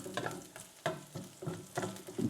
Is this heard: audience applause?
no